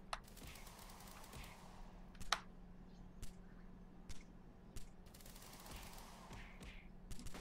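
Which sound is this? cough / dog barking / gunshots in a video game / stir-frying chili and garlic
gunshots in a video game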